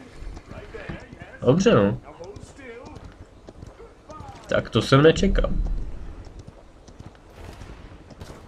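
Horse hooves gallop in the video game Paladins. Two clear bursts of clip-clop beats come and go while someone talks in Czech.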